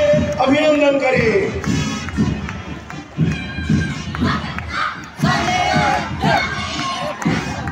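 A crowd at a Republic Day school competition cheers and shouts for a group of children from an international academy, loud surges of excited voices and applause close by, with a man announcing over the noise.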